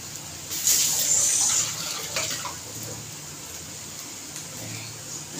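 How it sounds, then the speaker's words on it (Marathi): Hands rinsed under a running kitchen tap, a steady splashing stream of water with a brief louder gush early on, heard close with no talking. "हात धुवून आले"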